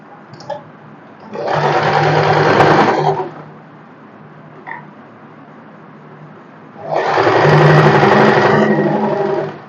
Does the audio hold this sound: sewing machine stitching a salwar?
yes